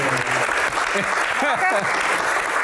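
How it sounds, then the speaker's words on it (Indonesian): A studio audience at a televised hajj Q&A forum claps steadily throughout, with voices talking over the applause. "Oke, tepuk tangan."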